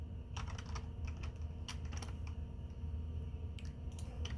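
A password is typed on a computer keyboard, a quiet, close flurry of irregular key clicks and taps lasting a few seconds over faint background hum.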